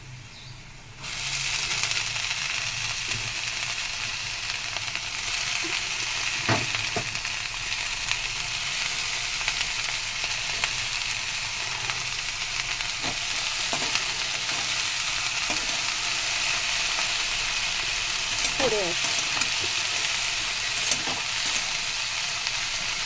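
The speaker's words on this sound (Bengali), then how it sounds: "এই যে শাকটা ভাজা করবো, কলমি শাক, ওই জন্য পেঁয়াজ শুকনো লঙ্কা কাঁচা লঙ্কা রসুন দিয়ে দিয়েছি" Water spinach (kalmi shaak) frying with onion, dried and green chilli and garlic in a pan, a loud, continuous close hiss of sizzling oil with a few faint scrapes of stirring.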